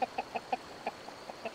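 A duck-like creature in an audio drama gives a steady series of short, evenly spaced clucking calls, close and clear, about eight in quick succession with no talking.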